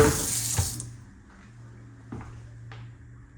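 Water runs from a kitchen tap in a house on W State St in Tampa, a short splashy gush at first that cuts off, followed by faint clinks and quiet room noise.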